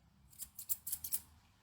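Small scissors trimming the hair around an American Cocker Spaniel's paw pads, about five crisp, quick snips in a row, close and quiet.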